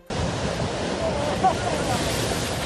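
Storm-surge ocean waves churned up by Hurricane Teddy roar as a steady, loud broadband wash of surf with wind noise buffeting the microphone throughout, and no talking.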